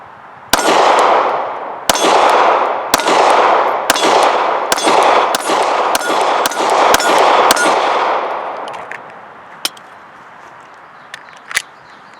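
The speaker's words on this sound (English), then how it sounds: "I am actually using a magazine loader, which is something I don't normally do, but that 10th round is really tight going into these mags." Rounds being pressed into Sig P365 magazines with a magazine loader, heard as a series of about eight sharp metallic clacks at a steady pace, loud and close, followed by a few lighter clicks.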